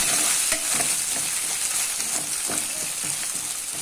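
A brinjal curry base with turmeric fries in a pan with a constant bright sizzle, while a utensil stirs through it with repeated scraping strokes at an irregular rhythm; no one speaks.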